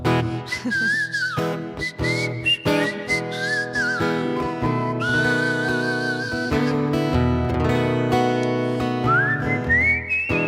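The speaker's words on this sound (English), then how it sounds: "Another whistle solo." A clear, close whistled solo carries a bright, gliding melody over full acoustic song accompaniment, loud and sustained for about ten seconds, with no talking.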